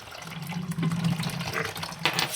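Warm coolant water drains out of a PC water cooling loop, running and gurgling in a steady trickle with bubbly surges and a brief splash near the end, close by.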